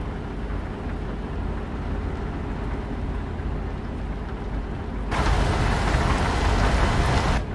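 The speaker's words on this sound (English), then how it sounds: "And there we go, rain." Rain in Euro Truck Simulator 2 hisses steadily over the low rumble of a truck engine, then swells abruptly into a heavier, louder downpour near the end.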